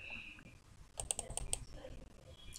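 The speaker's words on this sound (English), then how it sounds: "If you want to select it, you triple click 3 times." A computer mouse clicks in a quick burst to select a paragraph of text, a short run of sharp, close clicks with quieter ticking before and after.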